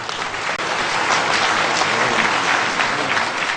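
Steady, dense applause from delegates filling a UN assembly hall after a speech, loud and sustained throughout with no break.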